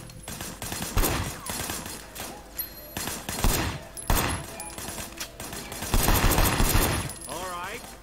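Rapid bursts of automatic gunfire in the Sleeping Dogs video game, several loud clustered volleys spaced across the stretch, with game dialogue voices mixed in.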